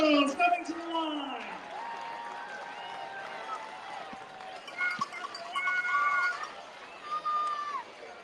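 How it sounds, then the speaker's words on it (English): Spectators cheer and clap as middle school girls finish a street mile race, a continuous crowd hubbub with whoops and clapping, and a voice talking over it early on. "And keep those applause coming"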